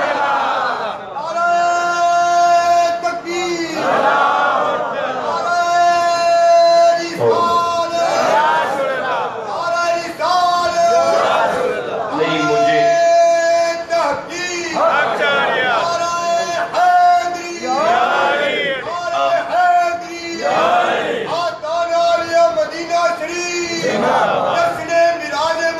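A large crowd chants a religious slogan in loud, rhythmic unison. The voices rise and fall in repeated phrases, and a single voice sometimes leads before the crowd answers.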